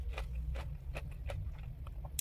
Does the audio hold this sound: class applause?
no